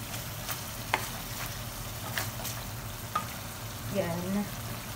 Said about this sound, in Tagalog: Yan, paikot-ikotin ulit natin.